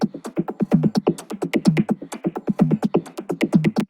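A textural glitch percussion groove built in Ableton, with quick clicky, tonal hits in a tight, bouncing repeating pattern, fairly quiet and dry, with no one talking.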